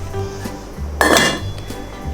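A lid clatters onto a metal soup pot in a home kitchen, one sharp bright clink with a short ringing tail, close and alone over a low steady hum.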